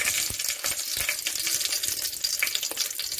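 Two bay leaves crackle in hot oil for a country chicken biryani: a steady, close frying hiss with a few sharp pops and spits, and no voices.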